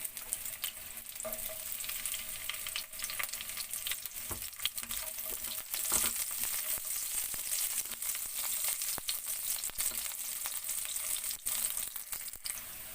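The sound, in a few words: garlic frying in a pan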